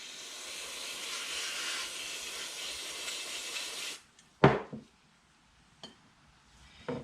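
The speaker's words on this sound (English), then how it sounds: "I'm going to spray all inside." Aerosol carburetor cleaner sprayed into a Kawasaki Mikuni carburetor from a John Deere mower, aimed through the open choke and small windows: a steady, close hiss for about four seconds, then a sharp knock and a few faint clicks.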